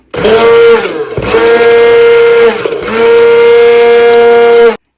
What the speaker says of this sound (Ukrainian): І зараз переб'ю погружним блендером.